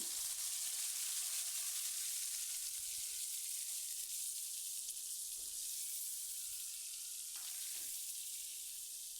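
Steady, loud sizzle of a spice mix frying in a pan with chopped onions browned until reddish, a few soft stirring knocks and light water-like clatter through the hiss, no talking.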